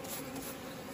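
Black honeybees swarm around an opened hive during honey harvesting in Raohe, giving a dense, steady buzzing drone that holds close and loud through the whole second, with no voices.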